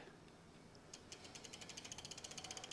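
Assembly bolts on a Sobowo trike bike being tightened with a ratchet, a faint close series of quick even clicks that starts after a near-silent opening and speeds into a steady rattling run.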